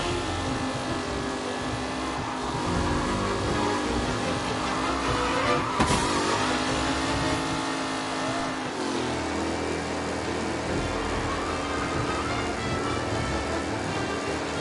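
Race cars in Mafia: Definitive Edition roar around a track on the final lap, a dense, continuous engine drone with shifting pitch and a loud pass-by surge near the middle, no voices.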